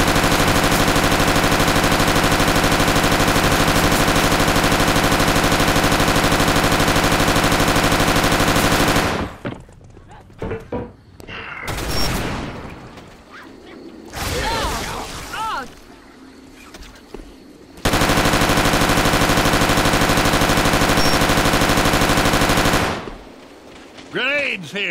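Assault rifle gunfire in Left 4 Dead 2 plays as long sustained bursts, loud and dense, broken by a stretch of quieter game noise and scattered shots before another long burst of fire.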